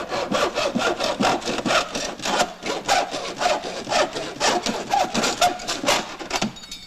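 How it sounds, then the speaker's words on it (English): A hacksaw cuts through an aluminum extrusion channel during bathroom remodeling work, making steady rhythmic rasping back-and-forth strokes, about two per second, close and clear, stopping at the end. "Now, use a hacksaw and simply cut."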